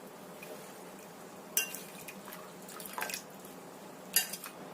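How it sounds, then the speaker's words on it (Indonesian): Boiled food being lifted out and drained, with water dripping and trickling off in faint, scattered patters and a few light clinks of kitchenware over a quiet room hush. "ini kita angkat, kemudian kita tiriskan"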